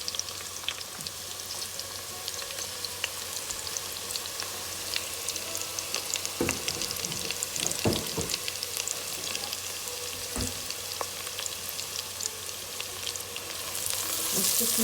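Onions fry in a pan for moong khichdi with a soft steady sizzle and crackle, scattered with a few sharper pops and light scrapes, close but fairly quiet, with no voices.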